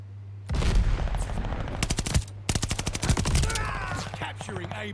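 Assault rifle gunfire in the shooter game Call of Duty Vanguard, dense rapid automatic shots in two long bursts with a brief gap, loud and close over a steady background hum.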